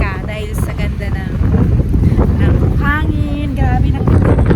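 Cool wind on a Boracay beach buffets the microphone in a loud, continuous rush, with faint surf in the background and voices speaking over it.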